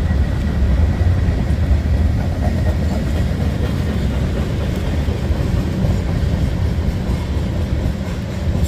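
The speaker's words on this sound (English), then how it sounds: "Train was on this track and it's not even completely going through" A freight train rumbles past on a track in Leetsdale, Pennsylvania during heavy rain, making loud, continuous broadband roaring and rail noise close by with faint clatter throughout and no voices.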